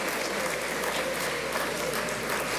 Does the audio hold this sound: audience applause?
yes